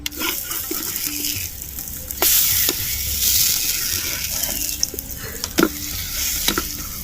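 Millet and potato roti frying in a pan, a continuous soft sizzle with occasional sharper scrapes and taps as the flatbread is moved and turned.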